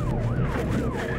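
A loud wailing UK police car siren sweeping up and down in pitch, close by, with engine rumble underneath.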